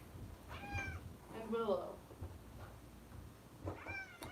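A house cat meows twice, a short wavering cry near the start and another near the end, with people talking and moving about in a home between and around the calls.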